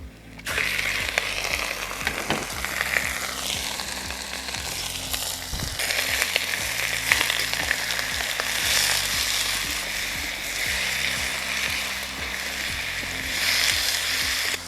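Chicken hits a hot pan of coconut oil and pepper for a Tamil-style pepper chicken, giving a steady, loud sizzle and crackle with occasional stirring scrapes and no talking.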